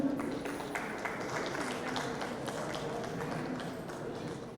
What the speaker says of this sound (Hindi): ये इनके लिए एक तालियां बजाओ जोरदार भैया के लिए